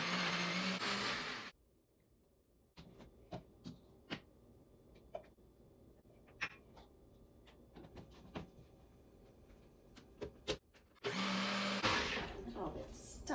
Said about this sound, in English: We're going to blend it in the NutriBullet for about a minute